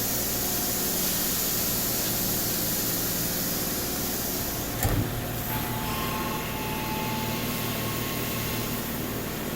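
A 2017 Fanuc Robodrill Alpha-D21LiB5 drilling and tapping machine runs a cycle, giving a dense, even hiss and hum with a brief clunk midway, steady and fairly loud with no voices.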